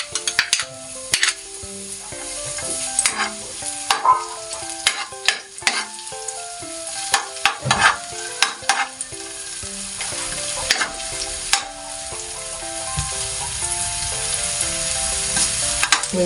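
Sliced onion and garlic fry in hot oil in a pan for pork igado, with a steady sizzle broken by repeated sharp scrapes and clanks of a spatula stirring against the pan.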